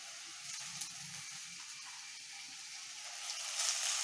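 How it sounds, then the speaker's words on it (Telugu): Vegetables and tomato fry in a pan for a tomato bath, giving a soft, steady sizzle with a light hiss that swells slightly near the end. The sound is quiet and close, with no voices. "వెజిటేబుల్స్ కొంచెం ఫ్రై అయినాక టమాటా అనేది వేస్తే రుచిగా ఉంటుంది."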